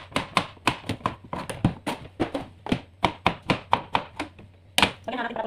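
A knife chops eggplant on a cutting board in a steady run of about twenty sharp, close knocks, the blade meeting the board in an even rhythm with brief pauses, alone without talk.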